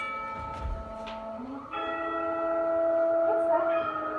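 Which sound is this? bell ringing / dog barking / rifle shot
bell ringing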